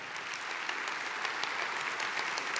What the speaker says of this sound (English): Come on, church, can we clap to that?